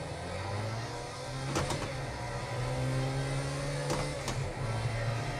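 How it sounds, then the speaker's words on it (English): Engine drone of a car with a manual gearbox and clutch driven in the racing game Project Cars 2, a steady low hum with shifting pitch and a couple of sharp transient clicks, no talking. "It's just something so satisfying, even in a video game, about driving a car with a manual and a clutch."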